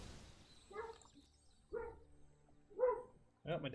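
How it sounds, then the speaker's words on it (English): A pet dog barking nearby in a home, four separate woofs spaced about a second apart, moderately loud over quiet background with no talking. "Oh, my dog's going nuts."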